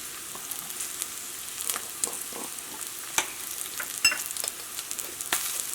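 Onions fry in a pan for pepper chicken curry, a steady close sizzle dotted with small pops and light scraping taps throughout.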